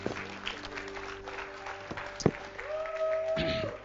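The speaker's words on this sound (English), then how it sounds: "Let's just give God a great big clap." A church congregation claps softly and briefly near the end, over sustained background tones and some quiet voices.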